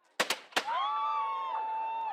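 Fireworks at Fort William Historical Park's New Year's Eve family frolic: three sharp, loud bangs in quick succession, followed by a long, steady whistling tone that holds to the end.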